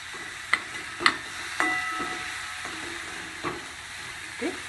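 Onion and tomato frying together for a kappa kizhangu masala dosa filling, a soft steady sizzle broken by several sharp clacks of a spoon stirring against the pan.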